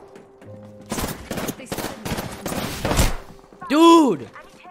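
Gunfire in the video game Apex Legends: rapid bursts of automatic shots crackle across a few seconds, followed by a loud whooshing, ringing effect, with a player talking briefly over the action.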